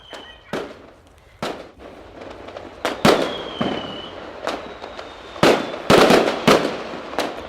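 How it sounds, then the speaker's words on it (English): Handheld fireworks set off on New Year's Eve: a series of sharp cracking pops and bangs at irregular intervals, some close and loud, with faint whistling between bursts. "It's fireworks."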